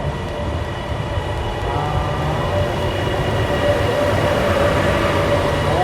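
A high-speed airport rail train from Phaya Thai to Suvarnabhumi rumbles steadily past at close range, a continuous roar with a faint rising whine that grows slightly louder.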